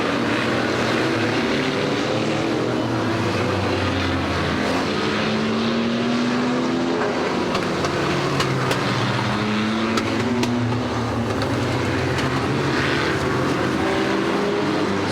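Stock cars racing around a club oval track at Warton, a dense, continuous roar of several engines layered together, with the pitch shifting as cars pass on the bends; no voices.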